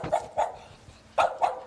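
Several dogs bark in short sharp bursts at an indoor dog boarding hotel, two quick barks followed after a pause by a cluster of three, loud and close with no talk.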